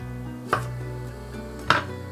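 A knife slices a lime into wedges, two crisp separate chops on a board about a second apart over a low steady hum.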